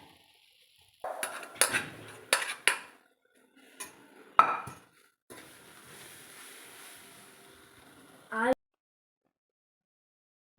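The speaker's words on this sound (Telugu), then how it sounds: "మనం ముందుగా ప్రిపేర్ చేసి పెట్టుకున్న అన్నాన్ని ఈ రైస్లో వేసేసి కలిపేయాలి" Cooked rice is mixed into a pan of aloo bath with a metal spoon, giving a few faint scraping and clinking strokes and a short rustle of stirring near the end, with a voice speaking at times.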